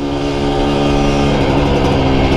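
An old Honda Nova Dash motorcycle engine revs hard and loud up close, a steady high-pitched roar with strong harmonic whine throughout.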